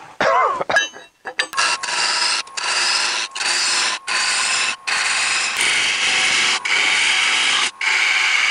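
Wood is cut away on a lathe as a tool scrapes a turning piece, giving a loud, harsh, sustained cutting hiss broken by short regular pauses, close by and without talk.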